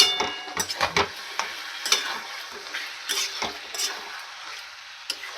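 Chicken being braised in a pan, lid lifted between rounds, is stirred with a utensil that scrapes and taps the metal in irregular strokes over a steady soft sizzle of frying.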